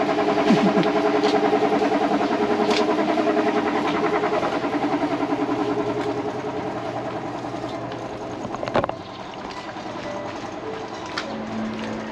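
A borrowed family motorbike idles close by, its engine giving a steady, loud, rumbling drone throughout with a brief rev or knock near the end, and no talking.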